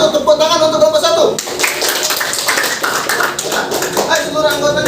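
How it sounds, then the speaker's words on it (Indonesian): Classroom applause for group one during a group-work session: a burst of clapping from many hands starts about a second and a half in and carries on steadily and fairly loud to the end, with a voice speaking at the start. "tepuk tangan untuk kelompok 1"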